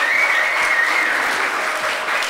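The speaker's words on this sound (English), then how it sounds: "Give them a round of applause, thank you." Wedding guests applaud during a reception entrance, a dense, loud wash of clapping from a full room that holds steady throughout the short moment.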